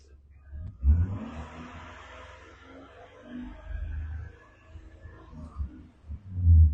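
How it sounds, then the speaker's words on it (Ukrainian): The engine of a 2006 Mitsubishi Pajero is revved with the throttle, making a low rumbling exhaust note that swells in a few bursts, close by and moderately loud. "Е, погазуй, а я подивлюсь на виходну трубу"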